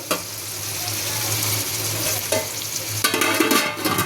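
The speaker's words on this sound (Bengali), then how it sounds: "টমেটো আর পেঁয়াজটা হতে থাক। টমেটো হওয়ার পেঁয়াজটা একটুখানি নরম হবে, হতে থাক।" Tomatoes and onions fry in a pan, a steady close sizzle broken by stirring clatter and scraping, with a clank near the end as a lid or utensil knocks the pan.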